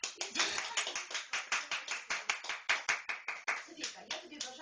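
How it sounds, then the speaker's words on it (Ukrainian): Children clap together at a birthday party just after a birthday song, a steady run of sharp, fairly close hand claps in quick rhythm, with voices faintly audible underneath. "А тепер покажіть, як ви вмієте гарно плескати."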